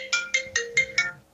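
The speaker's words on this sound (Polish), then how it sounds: "Przepraszam, muszę odebrać telefon." A mobile phone ringtone sounds as five short, bright electronic chimes in an even, quick rhythm, close and clear with nothing else around it.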